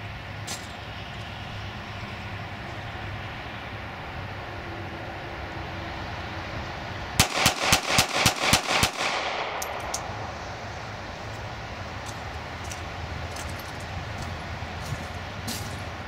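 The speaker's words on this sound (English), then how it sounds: "I'm going to let everything fly with a 7-round mag at 7 yards." SIG P238 pistol emptying a 7-round magazine at 7 yards, seven sharp cracks in quick even succession over steady outdoor background noise, then quiet again with a faint ring after.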